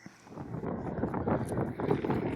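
Gusty wind buffeting the microphone near Green River, Utah, a rough low rumble that rises and falls, close and fairly loud.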